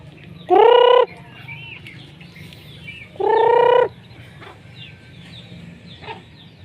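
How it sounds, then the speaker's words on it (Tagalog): Two loud, drawn-out calls from native Tagalog chickens about three seconds apart, each rising harmonic tones, over a low steady background hum with faint chirps. "Mga manok natin, manok Tagalog."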